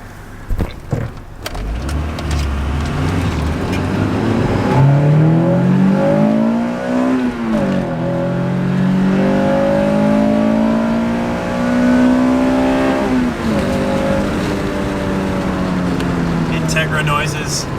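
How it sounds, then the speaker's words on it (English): An Acura Integra's engine revs hard and climbs through the gears while driving, a loud close engine note rising and falling for most of the stretch, with voices in the car now and then. "Integra noises."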